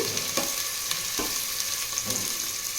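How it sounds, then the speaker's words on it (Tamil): Two onions sauté in hot oil for a Chettinad fish curry, giving a steady close sizzle with a few soft scrapes of a stirring spoon throughout. "வதக்கி விட்டுக்கலாம். இப்போது வெங்காயம் வதங்கட்டும்."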